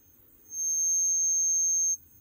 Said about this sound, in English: I've got a really annoying little buzzer there